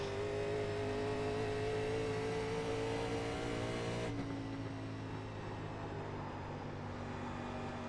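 Race cars on cold slick tires at the Charlotte Roval, heard as a sustained engine drone that drops abruptly midway to a lower, quieter idle, with no voices.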